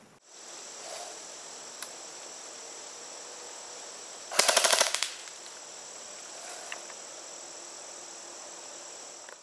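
A CYMA M14 SOCOM airsoft rifle fires a quick burst of several snappy shots at a target 50 feet away, standing out clearly against a steady outdoor hum of crickets.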